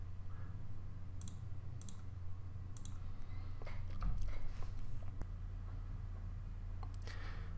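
Computer mouse clicks while selecting a report and pressing OK in stamp-collection software, several sharp isolated clicks over a constant low electrical hum, no talking.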